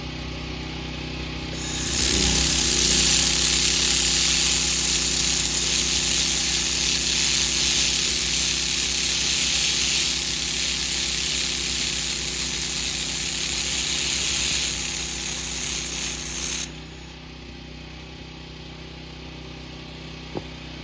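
A Haotian 1500W laser welder running a bead along a corner joint, one continuous bright hiss lasting about fifteen seconds over a steady machine hum, then cutting off, leaving only the hum.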